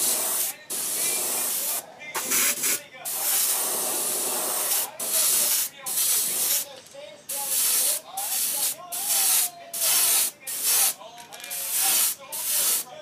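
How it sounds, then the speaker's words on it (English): An airbrush sprays gold paint onto a jerkbait in a series of short hissing bursts, about a dozen soft pulses separated by brief pauses, with a voice talking quietly between them. "Holding the airbrush way back from the bait, and just barely touching it with that gold."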